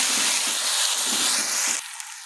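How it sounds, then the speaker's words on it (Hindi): Garlic-ginger paste sizzling in hot oil with browned onions, a loud steady frying hiss that drops off sharply near the end, no talk. "अब लहसुन अदरक का पेस्ट ये डालेंगे, इसे भी अच्छे से भूनेंगे।"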